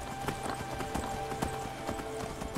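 Steady clip-clop of horse hooves at a brisk rhythm in The Elder Scrolls game Skyrim near Castle Volkihar, close and continuous, with a faint game-like ambience underneath.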